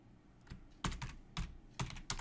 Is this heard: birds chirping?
no